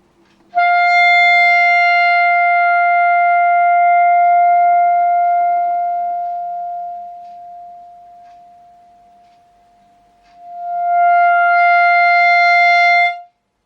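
One sustained woodwind note held steadily, swelling in, thinning gradually to near silence, then swelling back to full strength; clear, close and pure-toned, played alone with no talk.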